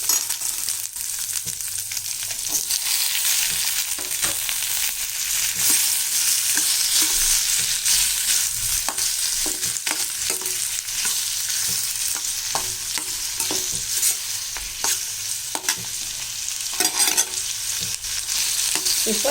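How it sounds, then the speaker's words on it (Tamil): Chopped tomatoes and onions fry in a pan for a tomato side dish for idli and dosa, with a steady sizzle and repeated scraping and clattering strokes of a spoon stirring close by, and no talk. "இப்போ இந்த தக்காளி நல்லா கொஞ்சம் வதங்கணும்."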